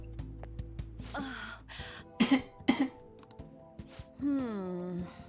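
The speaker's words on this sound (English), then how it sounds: "Oh, wow, it's so dusty. My cough is already this bad." A few sharp coughs in quick succession and a short throat-clearing sound from Persona 5 Royal, with brief voiced sounds around them and a faint steady tone underneath.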